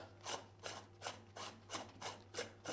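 A threaded stainless steel part being unscrewed by hand, giving six evenly spaced rasping, grinding turns over a steady low mechanical hum, close and moderately loud.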